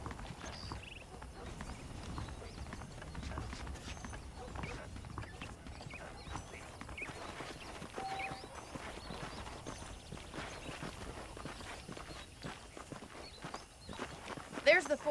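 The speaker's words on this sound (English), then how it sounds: "The horses are saddled up over here." Horse hooves clip-clop steadily in the Red Dead Redemption video game, a continuous walking rhythm beneath speech and ambient sound throughout.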